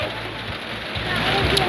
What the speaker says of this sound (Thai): ฝนก็ตกพี่น้องเอ้ย